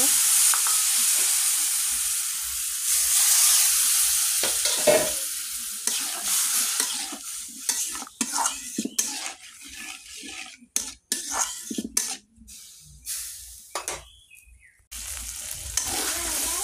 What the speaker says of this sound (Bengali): আমি ভালোভাবে এটা কষিয়ে নিলাম বাদামটা।